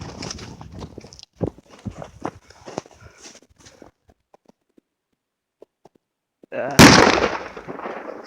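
Rustling and shuffling steps give way to a quiet pause, then a single sharp firecracker bang bursts out loudly and fades.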